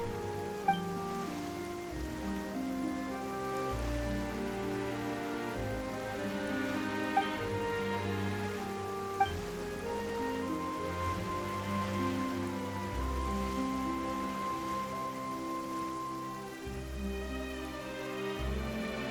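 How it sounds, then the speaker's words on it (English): Rain falls in the video game Genshin Impact as a soft, steady patter beneath prominent melodic game music, with a couple of small sharp ticks along the way. "Why is it raining all of a sudden?"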